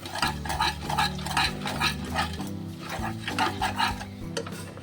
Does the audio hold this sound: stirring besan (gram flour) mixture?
yes